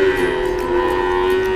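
A young heifer calf at a cattle market gives a single sustained, steady moo, loud and close, with no talk over it.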